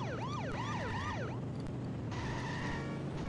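A police car siren wails in The Simpsons Hit & Run video game, its rising and falling tone cycling several times over a steady engine rumble, then giving way to a flat sustained tone.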